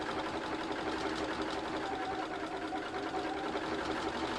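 Sewing machine running a continuous top stitch, a steady close whirring buzz with rapid needle rattle, even and unbroken from start to finish.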